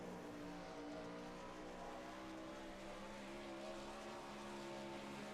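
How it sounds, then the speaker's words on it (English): A no limit sprint car engine races at Williams Grove, a steady distant droning roar that holds fairly even throughout, faint and without talk. "You just hear that car singing at the moment."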